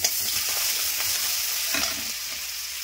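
Whole spices, dry red chilies, bay leaf, cumin and ginger crackle and sizzle steadily in hot oil, a bright continuous hiss with a few soft stirring knocks, close and alone without talk.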